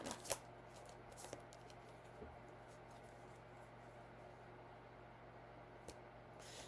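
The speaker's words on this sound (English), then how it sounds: "but let's just see what the tarot says, okay? 4 cards describing Kelsi and Libby's last interaction" Tarot cards are shuffled softly and close by, a faint riffling texture with a few sharp taps near the start and again later over a quiet background hum.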